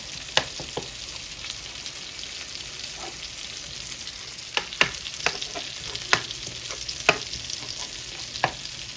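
Garlic sizzles steadily in butter in a pan, a soft continuous frying hiss with scattered sharp pops and spoon clicks, moderately quiet and close, with no talking.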